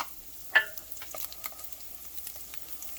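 Butter hitting a hot pan of crispy browned sausage for gravy, with one sharp clatter early on followed by a soft, steady sizzle and small scattered ticks of stirring.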